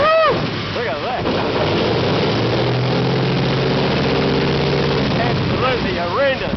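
A Pratt & Whitney R-4360 radial aircraft engine roars loudly and close during startup, a heavy, steady low drone with rising and falling whines, while people talk over it.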